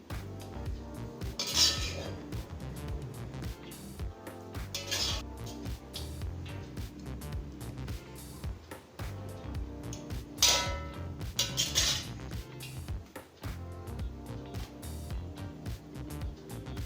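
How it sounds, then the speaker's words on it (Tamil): Metal spoon scraping and clinking against a pot while cooked rice is stirred with grated mango and asafoetida, irregular knocks with a few sharper clangs, fairly close and with no voices. "இப்போ நல்லா கிளறிக்கலாங்க"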